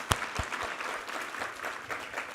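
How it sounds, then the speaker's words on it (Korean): A church congregation at a Sunday service claps together in praise, dense applause lasting a couple of seconds with a few sharper single claps at the start. "우리 하나님께 감사와 영광의 박수 올려드리겠습니다."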